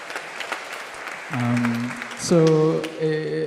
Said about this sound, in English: Round of applause, Helen Jane.